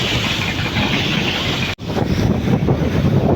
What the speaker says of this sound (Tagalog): At lumakas na din ang hangin mga idol.